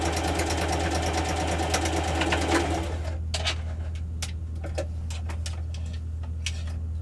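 Sewing machine running steadily while stitching bright fabric triangle pieces for a quilt block, a dense mechanical whir that thins after a few seconds into sparse ticking and clicks.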